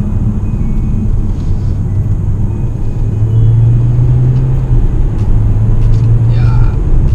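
Peugeot 508 driving along winding mountain roads through hairpin bends, a steady low engine and road rumble with a rising drone midway, close and continuous.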